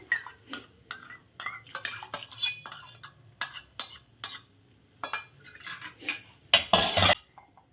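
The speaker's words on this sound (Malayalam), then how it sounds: "എടുത്ത പാത്രം ഒന്ന് കഴുകാം" Metal cookware clatters and knocks in a quick, irregular series of short, close bangs and scrapes, as though a pot is being scrubbed and rinsed.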